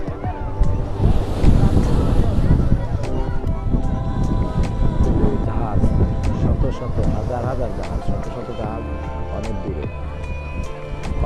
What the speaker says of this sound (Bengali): প্রচুর পানি বাড়ি খাচ্ছে